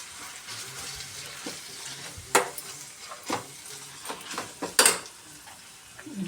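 Chopped onions and small-cut tomatoes sizzle steadily in a pan, with a few sharp stirring clatters and scrapes of a utensil against the metal rising above the continuous frying hiss; no talking.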